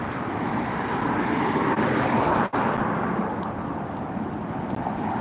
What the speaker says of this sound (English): You probably never before seen an A380 come to the very end of a runway, have you?